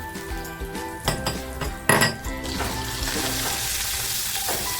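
Ginger, garlic, coriander and chili paste drops into hot oil and sizzles steadily, with a couple of sharp metal clinks from a utensil against the pan, close and without any talking.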